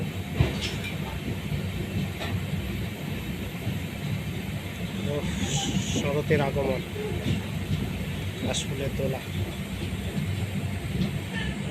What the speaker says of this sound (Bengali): ট্রেন এই মুহূর্তে আজিমগঞ্জ জংশনে ঢুকছে